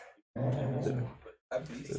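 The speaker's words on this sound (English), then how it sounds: "The beast in the background is growling at everybody." A dog growls in the background of a tabletop role-playing game session, a low rumbling sound mostly masked by steady nearby conversation, with short pauses in the talk.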